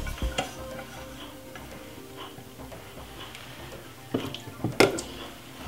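Fried salmon scraped out of a pan, a low scraping and light sizzle with a few ticking taps, then louder utensil knocks and scrapes near the end.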